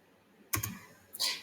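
A few quick computer mouse clicks land close and crisp, two sharp clicks followed by another brief click a moment later against a quiet background.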